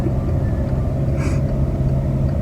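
A family car creeps along at about 15 km/h around 2000 rpm, its engine giving a steady low hum and rumble close by, broken by one short higher noise partway through.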